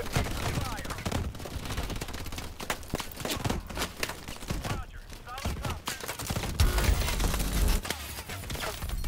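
Heavy, near-continuous gunfire rattles through a Call of Duty: Advanced Warfare firefight, with dense overlapping shots and bursts that barely let up.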